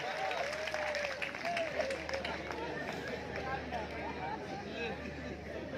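At a Hindi poetry gathering (kavi sammelan) during the Tapti Mahotsav in Multai, an audience claps amid crowd chatter and murmuring, the clapping steady but mixed under a busy hubbub of voices.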